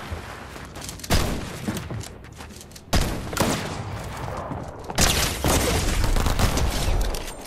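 Rapid bursts of blaster gunfire in the Fortnite video game, loud and dense, with several sharp volleys breaking in over a continuous rattle of shots.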